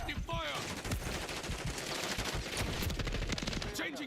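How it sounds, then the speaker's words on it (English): Rapid automatic gunfire from Call of Duty: Modern Warfare III multiplayer, dense overlapping bursts of shots rattling continuously throughout, fairly faint overall with a few voice fragments mixed in. "Taking effective fire."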